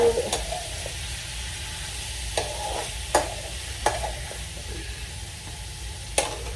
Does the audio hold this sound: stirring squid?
yes